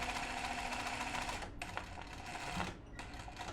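A sewing machine doing free motion zigzag stitching on upcycled clothing, a rapid steady mechanical chatter that pauses briefly and restarts, close and fairly quiet.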